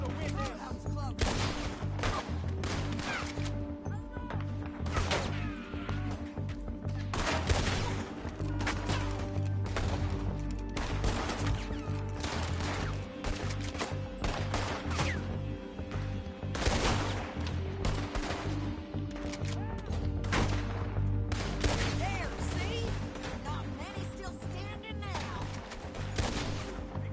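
Rapid gunfire rattles through a Red Dead Redemption 2 shootout, dense repeated shots and bursts over a steady background rumble for the whole stretch, with voices talking in between.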